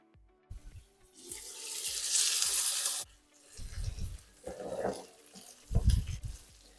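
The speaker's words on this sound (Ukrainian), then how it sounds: "зараз накриваю кришечкою і смажу до готовності" Garfish frying in a covered pan: a bright hissing rush rises for a couple of seconds, then drops away, followed by quieter sizzling and clattering bursts with some low thuds.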